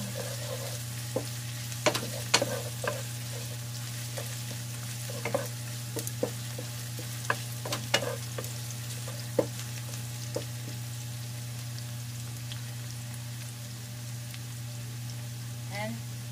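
Garlic frying in a pan for fish escabeche, a continuous soft sizzle with scattered sharp pops and crackles over a steady low hum.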